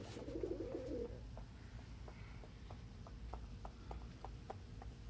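A pet pigeon named Bird coos softly during brood time, a low burbling call near the start followed by faint scattered clicks and rustles in a quiet room.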